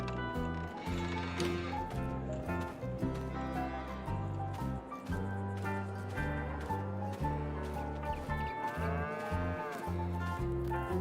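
Young dairy calves, one to two months old, mooing in a pen on a farm. Repeated moos rise over a dense, steady bed of music.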